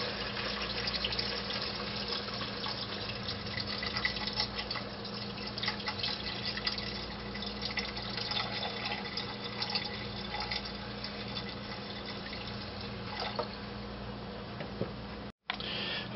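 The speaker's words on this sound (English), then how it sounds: "And then we're going to cover this with some beef stock." Beef stock pours into a pot of lamb stew with a continuous soft, liquid trickle, faint and steady, ending with a brief pause.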